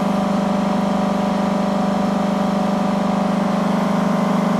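Horizontal 3-6 stage one pulse motor with neodymium magnets running at high speed, a loud, steady electric hum with a buzzy whine and fast rhythmic ticking, continuous and close, no voices.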